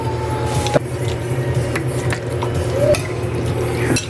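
Pork and liver being stirred in a bowl with soy sauce and cracked pepper, giving a steady close wet squelching and sloshing with a few light clinks, no talk.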